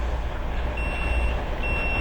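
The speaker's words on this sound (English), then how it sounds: "that beep beep indicates it's up to target" Wort Hog 1-barrel two-vessel brewing system beeping as it reaches target mash temperature, two thin electronic tones heard over a loud steady low hum of equipment.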